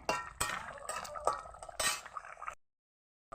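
Chopped coriander leaves are stirred into a rohu fish head curry with potato and kohlrabi, giving several sharp spoon clinks and scrapes against the pot with wet bubbling between, close, then sudden silence.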